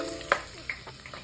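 Garlic and onion frying in a pan while being stirred for Visayan chicken tinola, with a soft steady sizzle and a few sharp utensil clinks, close and fairly quiet.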